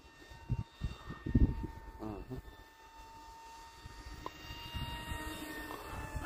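An FT Alpha radio-controlled model airplane flies overhead with a thin, steady motor whine that holds at a moderate distance, while people talk intermittently near the start.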